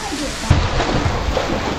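Monsoon rain hisses steadily near a river and pool at Malavli, Lonavala, with a low rumble underneath, and a voice speaks briefly over the wet background.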